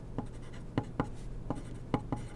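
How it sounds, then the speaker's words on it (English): A pen writes by hand on paper while a gravitation calculation is worked out, giving six short, soft scratching strokes spaced irregularly over a faint steady hum, with no talking. "And I'm going to write"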